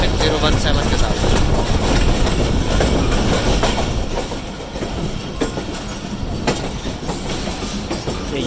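Train passing on the railway beside a moving express between Nawabshah and Karachi, loud rushing roar and rhythmic clatter of wagons close by, easing slightly toward the end, with a voice speaking over it.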